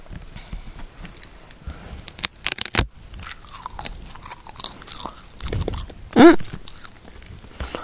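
Mixed-berry flavored edible colored paper being bitten and chewed up close, with crisp crunching bites, soft rustling and sniffing, and a louder bite near the end.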